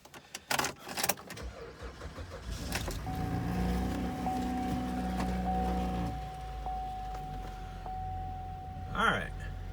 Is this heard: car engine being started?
yes